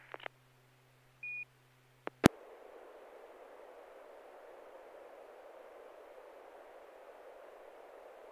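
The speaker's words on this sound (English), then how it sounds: "I'm just going to send a test image on Robot 36 for speed" A Robot 36 SSTV test image comes over a ham radio net: a few short beeps and sync tones, then a steady, faint, hissing data signal that continues unbroken to the end.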